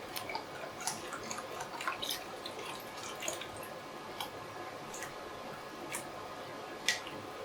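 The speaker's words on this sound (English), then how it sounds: "We're going to whisk that until it's very, very well combined." Eggs are whisked with whole milk and heavy cream in a bowl, making faint, steady clicking and light liquid sloshing at close range.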